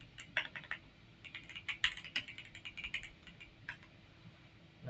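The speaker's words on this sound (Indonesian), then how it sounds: "untuk melihatnya bisa kita ketikkan finger nama usernya" Typing the finger command on a computer keyboard at a Linux terminal: a quick, irregular run of light key clicks, close and fairly quiet, alone without talk.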